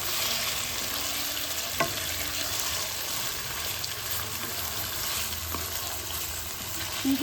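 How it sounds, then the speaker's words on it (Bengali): Minced chicken fries in a pan over medium-low heat with a steady close sizzle, while occasional scrapes and taps of a spoon stir it, with no talking. "এবার ফ্লেমটা কিন্তু আমরা একটুখানি মিডিয়াম লো টু মিডিয়াম রাখবো রেখে আমরা চিকেনটাকে কিন্তু কষিয়ে নেবো খুব ভালো করে"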